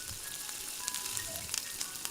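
Cumin seeds and oil sizzling in a kadai over a gas flame, a steady crackling hiss with occasional sharper pops, close and continuous with no voices.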